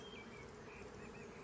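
Honeybees settle down for the night at the hive in the evening, their buzzing a soft, unbroken drone throughout the short stretch, steady and close with no other sounds.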